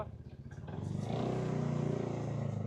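Engine of a Suzuki Skywave 400 scooter with 22,000 km on it idles close by, a low pulsing putter that swells into a steadier, fuller running hum after the first second.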